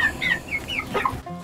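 Laying hens and roosters cluck and squawk in a farmyard, a few short overlapping calls over a second and a half at moderate distance, with no voices.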